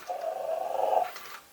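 A Hasbro Star Wars Chatter Back Chopper toy wakes up with a brief electronic purr, a soft warbling tone lasting about a second before trailing off, close and alone.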